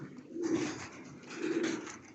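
Black pigeons and their chicks in a loft give two soft, low coos close by, one after the other, in an otherwise quiet space.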